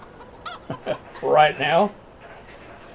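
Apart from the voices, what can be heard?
chickens in a chicken house, video game Big Fields XXL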